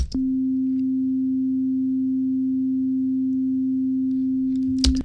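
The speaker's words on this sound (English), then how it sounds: "I'm just going to show you what the sine wave sounds like without the Tal chorus for now." A steady, pure electronic sine wave synth tone with no chorus effect holds at one pitch for about five seconds, loud and unwavering, ending with a brief click.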